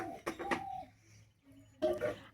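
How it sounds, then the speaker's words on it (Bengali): Pigeons in a Rajshahi village on a winter morning give soft, low coos, faint and somewhat distant against quiet outdoor ambience. "এইদিকে এই কবুতরগুলো যে কি সুন্দর"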